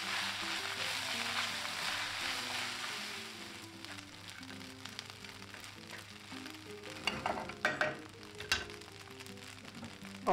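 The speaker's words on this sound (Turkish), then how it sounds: "altını kısalım ve erişteleri de güzel bir çevirelim" Eriste noodles fry in a pan over low heat while being stirred, a soft steady sizzle that fades a little partway through, broken later by a few sharper scraping clicks near the end.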